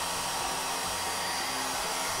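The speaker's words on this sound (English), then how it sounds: "I'll use the hair dryer to speed up the process." A hair dryer blows steadily at close range, a continuous loud whoosh of air with a motor hum underneath and no other sounds.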